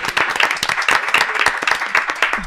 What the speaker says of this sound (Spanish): Un fuerte aplauso para él